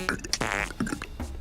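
A Lego Star Wars cartoon character speaks in burp and fart noises: a rapid, close string of wet, buzzing raspberry sounds.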